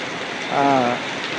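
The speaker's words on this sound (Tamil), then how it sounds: "எதிரே வரும் வாகனங்கள் தெரியாத அளவிற்கு மழை பெய்து கொண்டிருக்கிறது." Heavy rain pours down on a road in Kanyakumari, a steady broadband hiss of falling water with a brief louder swell midway, heard alone without talk.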